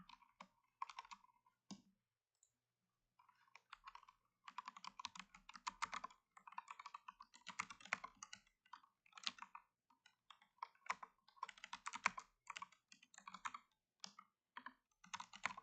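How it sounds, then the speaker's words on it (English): Blind typing on a computer keyboard during an online stream: bursts of fast, close clicking keystrokes with short pauses between runs, and no talking. "Let's go ahead and try to do some blind typing for some fun."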